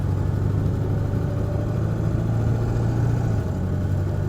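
Engine of a 2001 Ford Excursion XLT 4WD with a 7.3L Powerstroke diesel while driving: a steady low droning rumble from inside the cab, even and continuous, with no talking.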